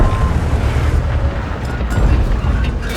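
A heavy tank cannon blast from the Object 907 in World of Tanks rolls into a loud, sustained rumbling boom, dense and low, filling the whole moment with no quiet gaps.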